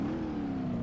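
Moonhawk car with a manual 3-speed transmission, its engine running in a steady, close droning hum that rises slightly in pitch as the revs creep up, with no talk.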